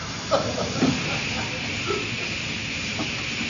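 A steam train at a station hisses steadily as it stands, a continuous breathy rush with a few soft knocks and thumps rising briefly above it.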